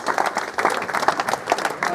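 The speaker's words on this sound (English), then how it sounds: "A round of applause, please" Audience applause at a charity evening event, dense and lively clapping with uneven bursts, filling the room without any speech over it.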